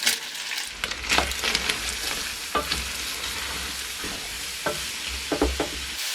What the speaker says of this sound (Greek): Αφού έχει σοταριστεί η σκοταριά θα προσθέσουμε το ξερό κρεμμύδι